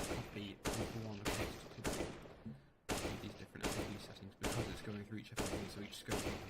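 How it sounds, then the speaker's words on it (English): Bursts of gunfire go off steadily in rapid repeated volleys, each sharp crack followed by a short decay, as bots are shot on a practice map in CS:GO; the volleys are faint and continuous throughout. "sit here, shoot these bots"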